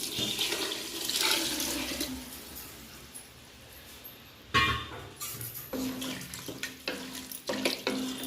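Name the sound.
pouring water into a pot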